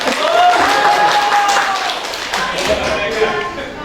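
Audience of teachers at a vocational school session applauding, a brisk burst of hand clapping that starts full and gradually thins out, with a voice audible alongside.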